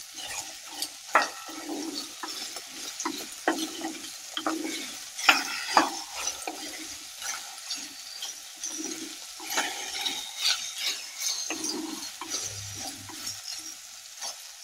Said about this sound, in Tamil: இப்போ வெண்டைக்காய் போட்டுக்கலாம். இதை நல்லா வணக்கி எடுத்துக்கணும்.